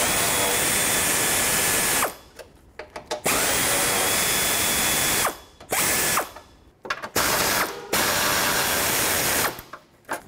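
A ratchet and socket work 8mm bolts on the air dam of a 2009-2014 Ford F-150, giving loud, continuous clicking in several long bursts broken by short pauses, close to the microphone, with no talk.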